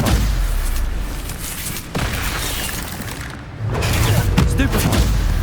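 The Stupefy spell cast in Hogwarts Legacy during a duel, with loud booming, crackling magical impacts and blasts layered over combat noise and a voice.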